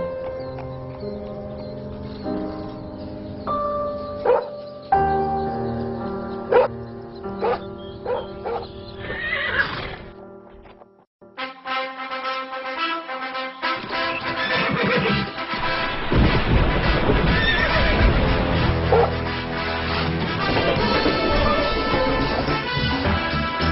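A Clydesdale horse whinnies several times amid swelling orchestral music, with a brief quiet gap midway before the music surges back loud and full.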